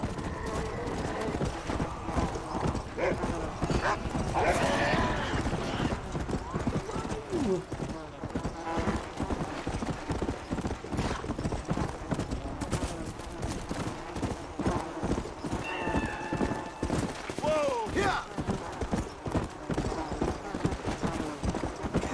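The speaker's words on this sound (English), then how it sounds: "Is this the horse that follows flies?" Steady clip-clopping hooves of a horse in the video game Red Dead Redemption: Undead Nightmare, with occasional whinnies and game ambience, while people talk over it throughout.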